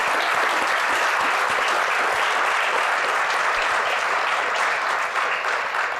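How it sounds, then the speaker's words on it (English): Sustained audience applause thanking the panellists at a humanitarian engineering evening event, a dense, even wash of many hands clapping at steady loudness throughout. "So I'd like to please have a round of applause again to thank our panellists for tonight."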